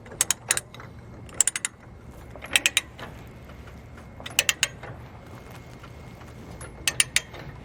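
Durabilt ratchet chain binder being tightened, giving quick clusters of two to four sharp metallic ratchet clicks repeated at intervals, close and clear over a low background hum.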